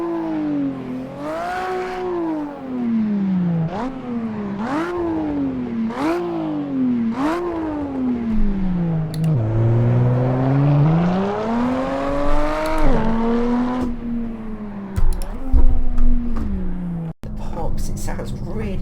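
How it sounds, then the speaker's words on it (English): A Maserati Levante V6 in Assetto Corsa revs repeatedly in rising and falling sweeps, climbing through upshifts and dropping on downshifts, loud and continuous, ending in a few abrupt clunks. "I just love the sound of V6s"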